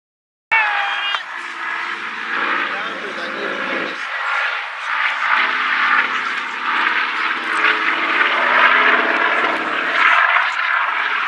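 A Caribou tactical military airlifter, a short takeoff and landing plane, runs its engines at an airshow in the Hunter Valley, New South Wales: a loud, steady, broadband roar that holds for the whole stretch, with a voice speaking over it.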